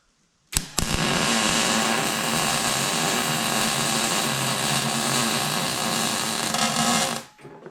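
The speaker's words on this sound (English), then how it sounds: "let's weld the bottom of this up" Metal being welded in a metal shop gives a loud, close, continuous buzzing hiss that starts abruptly with a short crackle, holds steady for about six and a half seconds, then cuts off, with no talking.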